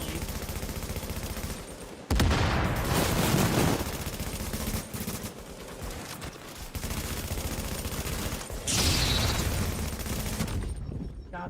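Rapid bursts of sniper and automatic gunfire in the shooter game Tom Clancy's The Division, loud and continuous with sharp louder volleys, playing under a man's speech.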